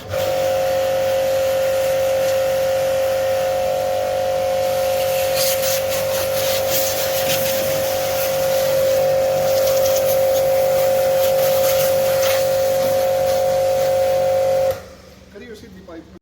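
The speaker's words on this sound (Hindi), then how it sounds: "ये चलता हूँ गाड़ी स्टार्ट कर रखी है ताकि थोड़ी ठंडी हो जाए" A car engine idles steadily after being started and left running to cool the car in summer heat: a loud, constant droning hum for about fifteen seconds that stops abruptly, with voices talking over it.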